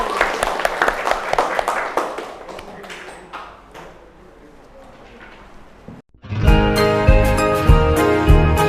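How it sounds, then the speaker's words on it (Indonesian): Applause and cheering from a school gathering of vocational high school students and teachers in Indonesia, a dense clapping swell during the first seconds that fades, then gives way to loud music after a brief break. "Tepuk tangan untuk kita semua."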